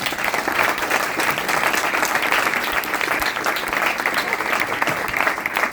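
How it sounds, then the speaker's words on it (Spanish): Audience applause greeting a doctor invited to speak at an academic talk on public science policy: dense, loud, sustained clapping from a crowd, continuing evenly for several seconds. "démosle un fuerte aplauso"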